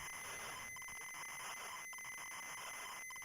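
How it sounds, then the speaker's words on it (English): A ZX Spectrum game loading from tape: a harsh, continuous buzzing screech of data tones with steady high whines and occasional brief dropouts, faint and unbroken throughout. "that sound was the sound of a game loading onto my ZX Spectrum."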